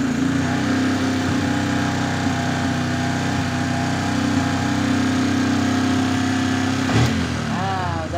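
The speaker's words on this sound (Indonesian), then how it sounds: "Setelah itu akan kita kontak dan kita hidupkan motornya. Oke, udah hidup." A Yamaha Jupiter MX motorcycle engine idles steadily just after starting, a close, loud and even putter with a slight rise near the end, while a person talks over it.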